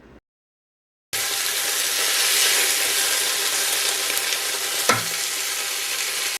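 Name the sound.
searing chicken in a Ninja Foodi Possible Pro Cooker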